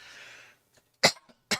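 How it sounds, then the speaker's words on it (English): Two sharp coughs close to the microphone, spaced about half a second apart, following a brief breathy hiss and quiet. "apologies for the coughing"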